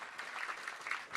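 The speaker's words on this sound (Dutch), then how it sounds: "Applaus." Audience applause at an event, a brief burst of steady clapping from a crowd, fairly faint.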